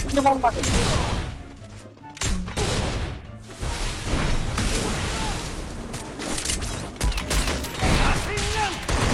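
Sniper rifle shots in a PC shooter match, sharp loud bursts among dense battle noise and explosions, with people talking over the game throughout.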